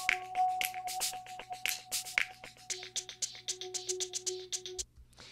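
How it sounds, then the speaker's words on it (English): A soundtrack music bed plays sustained tonal notes that shift pitch partway through, under a busy pattern of crisp percussive hits, ending with a brief drop near the close. "I also have a soundtrack music bed that Jeff has created for me"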